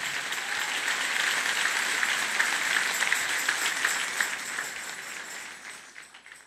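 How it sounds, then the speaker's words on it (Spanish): Applause from a church audience fills the space, a broad even wash of many hands clapping that holds steady and then gradually fades away. "Dale un aplauso al Rey."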